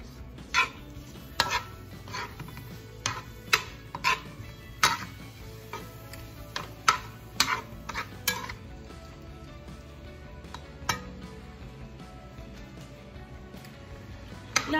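Cooked shrimp warms in a frying pan for shrimp fried rice as a utensil stirs, tapping and clinking against the pan in an uneven rhythm over a low background sizzle.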